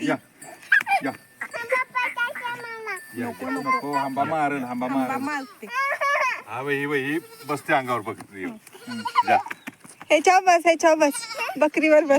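A goat bleats repeatedly close by on a farm, among other livestock including a buffalo, its wavering cries mixing with a person calling and talking to a child.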